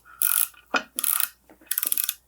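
A 5/16 wrench works a turbocharger coolant line fitting on a Mercedes M278/M157 engine, giving several short metallic ratcheting bursts separated by brief pauses, close and fairly loud with no talk.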